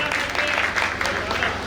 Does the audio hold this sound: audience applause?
yes